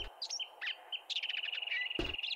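Birds in the game 7 Days to Die chirp and tweet in short, fairly faint calls, then a quick repeated trill, with a soft thud near the end.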